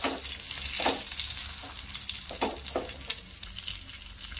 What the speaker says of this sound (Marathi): गॅसची फ्लेम लो केल्यानंतर आपल्याला पूर्ण खमंग खरपूस हे भाजून घ्यायचे